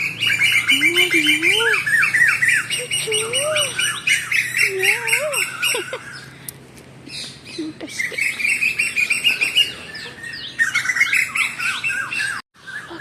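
Asian koels call repeatedly nearby, loud rising whistled notes mixed with harsh squawks and busy chirping from other birds throughout.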